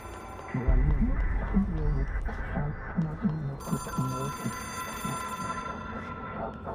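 A telephone rings repeatedly in the video game Control, a bright electronic bell pulsing in a steady rhythm beneath a voice talking throughout, with a higher tone joining partway through.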